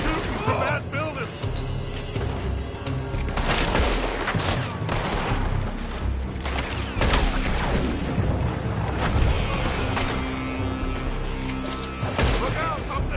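Heavy gunfire in Red Dead Redemption 2 as enemies shoot from a building, with repeated sharp shots and volleys crackling through a loud, busy battle while character voices talk over the shooting.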